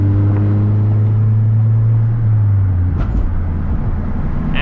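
A lowered manual Mazda 3 hatch or sedan cruising on the road: a loud, steady low engine drone with cabin rumble, fairly constant throughout, with no speech.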